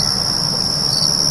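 Crickets chirp in a steady, continuous high-pitched trill, with no voices and a faint low background hum.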